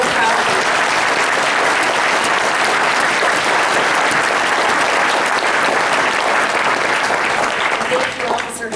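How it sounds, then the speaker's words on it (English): Sustained, loud audience applause for a group of young men and women at a ceremony, a dense steady wash of clapping lasting throughout without a break. "Let's give these young men and women one more round of applause."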